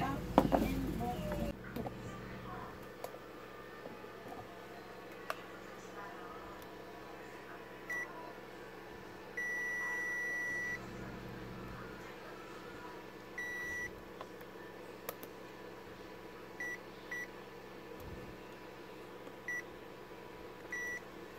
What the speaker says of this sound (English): The multi-tester is set in continuity. The beep sound means there is a shorted component.